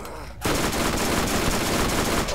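Enemy gunfire in Borderlands erupts suddenly and rattles on as a loud, continuous automatic burst, close and dense, with no voices heard.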